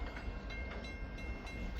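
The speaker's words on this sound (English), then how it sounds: "I guess the train's going to Pembine." Freight train with placarded tank cars rolling past, a steady low rumble and rattling wheel noise with faint rhythmic clatter, continuous and moderately distant.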